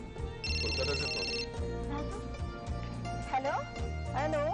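A telephone rings in a home with a call from Kolkata, a bright electronic trill repeating briefly over background music and voices.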